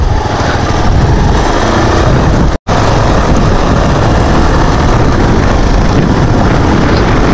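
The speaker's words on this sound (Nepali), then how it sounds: "अब चाहिँ यहाँ दाइले त्यो हिमालयन चलाउने रे है" Royal Enfield Himalayan motorcycle ridden off-road, a loud continuous engine roar with wind buffeting right at the microphone and one abrupt brief dropout midway.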